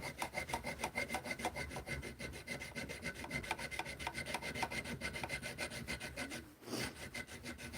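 Small jeweler saw cutting wood for a bracelet, fast, even rasping strokes in a steady rhythm, close and quiet, with a brief pause near the end.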